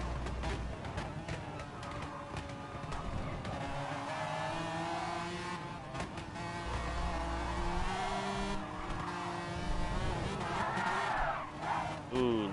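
Race cars in Gran Turismo Sport, McLaren F1 GTRs, with engines roaring steadily and tires sliding and squealing briefly, heard under continuous excited commentary.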